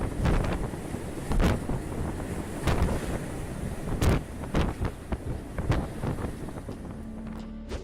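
Storm-driven waves surge and crash around a ship at sea, with heavy wind buffeting the microphone in loud, irregular bursts throughout, water slaps and roaring gusts overlapping, and no voices.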